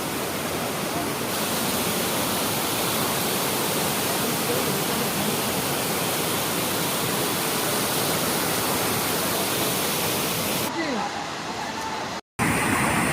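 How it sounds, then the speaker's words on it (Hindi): Dhua Kund waterfall near Sasaram in Bihar pours down as a broad, steady roar of rushing water that fills the scene, cut off briefly just before the end. "इतना शानदार वाटरफॉल, वो भी बिहार में।"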